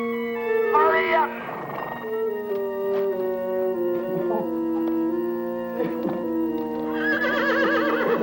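A horse neighs loudly at the start, then sustained tonal cries and whinnying continue with short knocks in between, ending in another rising whinny.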